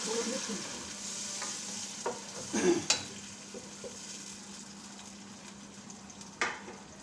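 Onions and tomatoes frying and sizzling in a pan for fish katakat, with a steady low sizzle and a few scraping stirs of a spoon against the pan, close and fairly quiet.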